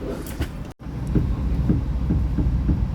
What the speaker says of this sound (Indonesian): tepat pada pukul 8:20 kereta api Argo Bromo Anggrek diberangkatkan dari stasiun Gambir menuju ke stasiun Surabaya Pasar Turi